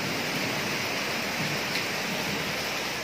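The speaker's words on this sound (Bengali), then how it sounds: "আর সেই লেভেলে বৃষ্টি হচ্ছে।" Heavy rain pours down in a steady, dense hiss during a thunderstorm, even and unbroken throughout, with no voices.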